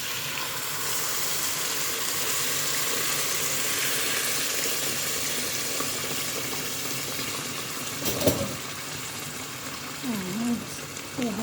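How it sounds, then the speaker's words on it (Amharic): Water poured into a pot of meat being cooked for majboos lahm, with a steady sizzling hiss that gradually calms, then a brief splash and a few clinks of the pot near the end. "ስጋውን አሁን ውሃ ጨምራለሁ።"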